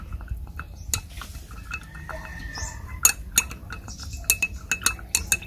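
A spoon clinks and scrapes repeatedly against a container while stirring vinegar for a homemade insect trap, with irregular metallic taps that grow sharper and more frequent toward the end.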